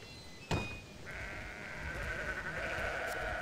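A single sheep in the video game Sudeki gives a clear bleat over a soft, continuous ambient drone, with a brief sharp click just before it.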